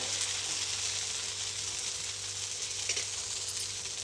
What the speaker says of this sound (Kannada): ಇವಾಗ ನಾನು ಇದೇ ಹಿಟ್ಟಲ್ಲಿ ಮಸಾಲೆ ದೋಸೆ ಹಾಕ್ತಾ ಇದ್ದೀನಿ